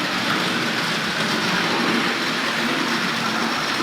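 A Hornby model railway train runs at express speed on a layout, giving a continuous close rolling and clicking rush of wheels on track with no pauses.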